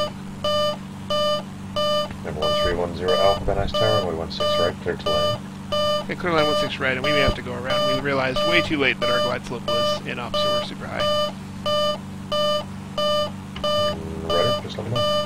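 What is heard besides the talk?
cockpit warning beeping in flight simulator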